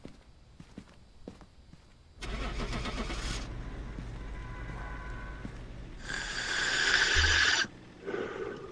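A truck engine cranks and catches in the ghost-hunting video game Phasmophobia, then idles with a steady low rumble that swells into a louder revving surge before cutting off, with faint clicks and footsteps before it starts.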